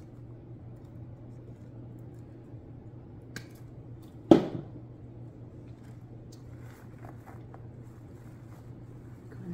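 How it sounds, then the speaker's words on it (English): A single sharp snip as a flower stem is cut for a white Christmas centerpiece, close and brief over a quiet low hum, with a few faint handling clicks after. "let's go ahead and cut this stem down a little bit"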